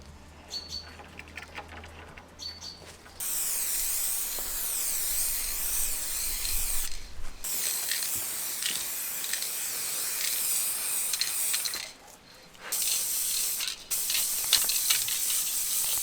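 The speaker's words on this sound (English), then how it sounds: "Second layer of clear coat" A spray can lays clear coat onto a Subaru Forester SF5 spoiler: close steady hissing bursts of several seconds, stopping briefly between passes, with faint clatter before the first spray.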